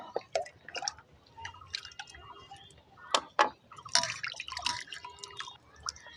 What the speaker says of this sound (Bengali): এখন ভালো করে ধুয়ে নেব মাছগুলো।